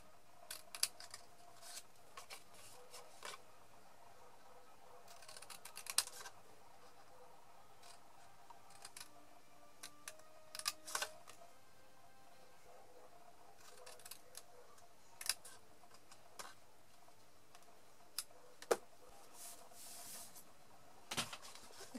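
Scissors snip paper to cut strips for a handmade paper lipstick case, with faint, close, irregular clicks and short cutting strokes in a quiet room.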